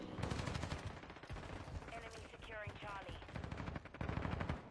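Rapid, dense gunfire from a multiplayer shooter game, with sharp repeated bursts and overlapping shots filling the clip, briefly easing in the middle before heavy firing resumes; faint voices sit beneath it.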